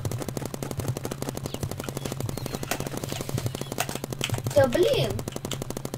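Rapid automatic turret fire in the Roblox paintball game BIG Paintball, a steady fast rattle running nearly the whole time under a short exclaimed voice.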